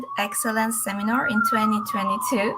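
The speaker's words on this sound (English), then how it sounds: "I'm sorry for the siren that just passed" Wailing siren of a passing emergency vehicle outside a seminar venue, rising and falling continuously and fairly loud under a speaker's voice.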